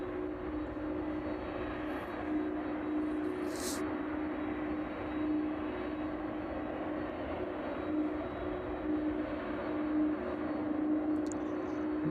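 A UPS Boeing 767 cargo jet taxiing at East Midlands Airport on a chilly evening, heard as a steady, fairly distant engine drone with a constant hum, alone with no talk.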